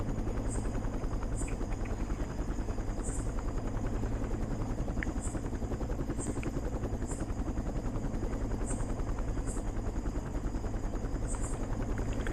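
Helicopter in a police crime simulator video game, a loud continuous rotor thrum with rapid chopping pulses and a steady engine whine as it comes in to land, with no talk.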